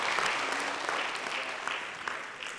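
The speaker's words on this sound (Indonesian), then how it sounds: "Mungkin boleh tepuk tangan semuanya sahabat jiwa," An audience gives warm, steady applause to welcome guests onto a show, dense clapping that holds at an even level for the whole stretch.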